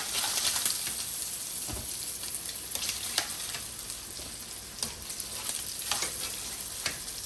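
Sausages fry in a pan with a constant soft sizzle broken by frequent sharp pops and crackles, fairly quiet and steady with no talking.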